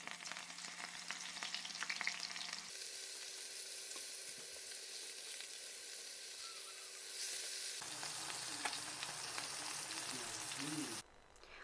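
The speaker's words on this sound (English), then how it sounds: "I'm going to sear the fish, maybe a minute or so each side" Fish sears in hot oil in a nonstick pan with a steady, loud hiss and crackle that lasts throughout, shifting in tone as pieces are added and moved, with a brief quieter stretch at the end.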